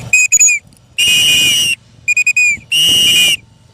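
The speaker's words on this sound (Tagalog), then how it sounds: "Pito." Four sharp, loud whistle blasts outdoors in strong wind during free flight of a sun conure parrot, a quick pair of short toots then a long one, repeated, with brief silences between.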